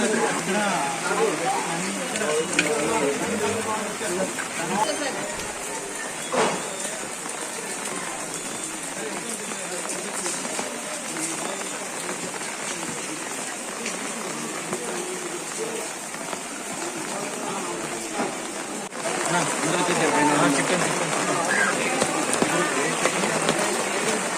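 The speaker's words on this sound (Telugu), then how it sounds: "మనం చూస్తున్నాం వర్షాలు ఏ స్థాయిలో పడుతున్నాయో" Heavy rain pouring in Vijayawada during a downpour, a steady hiss of drops hitting the ground that swells louder near the end, with faint voices in the background.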